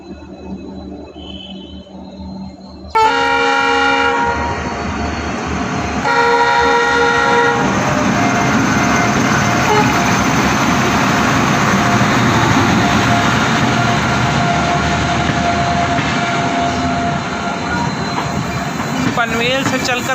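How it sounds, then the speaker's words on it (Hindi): The Panvel Gorakhpur Express passes close by, opening with a sharp horn blast, then a loud, sustained rumble of wheels and rail cars with squeals that continues to the end. "पनवेल से चलकर गोरखपुर जाने वाली पनवेल गोरखपुर एक्सप्रेस।"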